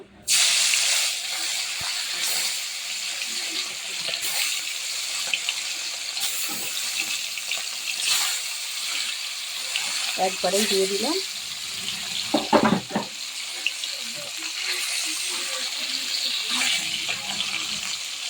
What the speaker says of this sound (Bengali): কড়াই তেল বসিয়েছি তেল গরম হয়ে গেছে এবার মাছগুলো দিয়ে দেব